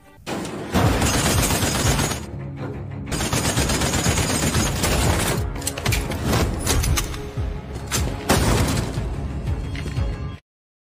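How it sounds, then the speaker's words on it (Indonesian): Heavy-caliber gunfire erupts in a film gang shootout, dense overlapping bursts and rapid volleys roaring loudly and almost continuously for about ten seconds before cutting off abruptly. "ia membalas dengan tembakan kaliber dan membunuh semua anggota Babylon termasuk Jung Chul"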